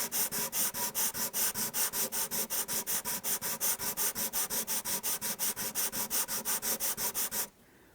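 A guitar finish is sanded by hand with sandpaper wrapped around a flat block, producing a fast, even back-and-forth rubbing rhythm of about four strokes per second, close and steady, stopping abruptly at the end.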